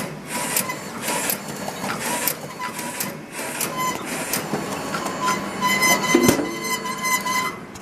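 A Duplo DC-645 slitter cutter creaser machine slits sheets of paper, giving a steady, dense mechanical rattle and whir with small clicks throughout, close and alone with no voices.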